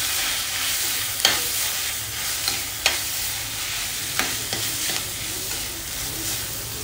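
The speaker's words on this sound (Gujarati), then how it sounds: "બાફેલી મકાઈ છે એ ઉમેરી દેવાની છે અને એને સરસ રીતે મિક્સ કરી લઈશું." Boiled corn and sautéed capsicum sizzle softly in a hot pan while a spatula scrapes and taps the metal in several distinct knocks, close up with no talking.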